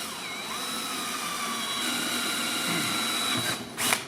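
A power drill whines steadily while boring holes through the sheet metal of a 2000 Ford Expedition during a light bar install, a sustained high tone that ends with a brief louder burst.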